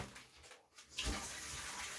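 Water gushes steadily from a kitchen tap after a brief lull, a continuous close rushing stream.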